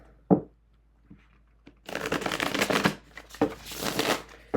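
A few light taps, then a thin tarot deck is riffled twice in quick crackling bursts, close and crisp.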